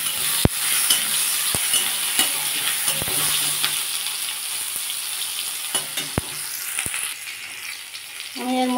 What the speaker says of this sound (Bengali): এবার একটু টমেটো দিয়ে দিলাম। টমেটোটা একটু ভালো করে ভেজে নেব।